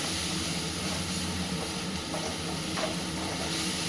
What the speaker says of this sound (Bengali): একটু কিন্তু চিমনিটা চলছে, একটু আওয়াজ হচ্ছে